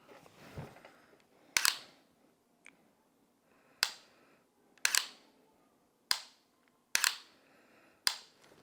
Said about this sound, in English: Then I should be able to reset my trigger now.